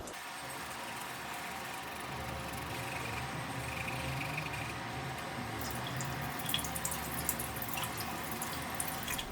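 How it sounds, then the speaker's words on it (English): Tap water runs steadily into a sink while a makeup brush is wetted under it, a continuous close splashing wash with a few brighter drips and knocks near the end. "grab a brush and then wet the brush and then start doing this."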